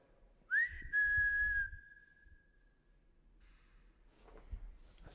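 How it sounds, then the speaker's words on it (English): A single sustained human whistle, a clear steady tone that slides up briefly then holds for about two seconds before fading, with faint room noise after. "can you whistle like this?"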